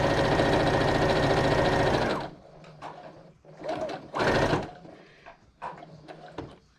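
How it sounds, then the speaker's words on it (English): A sewing machine stitching a fabric face mask runs steadily and loud for about two seconds, then stops, followed by a few brief bursts of stitching and handling noises up close. "you're going to sew back up the other side a 1/2 inch away"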